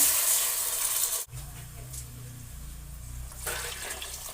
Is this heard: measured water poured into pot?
yes